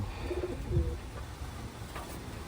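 Taiwan pigeons give a soft, low cooing call near the start, close and fairly quiet against a faint background hum, with no talking.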